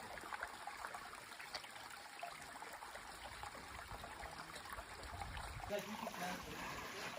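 A small stream of water trickling through the desert on a hot trail, a soft, continuous babbling flow that stays faint and steady throughout.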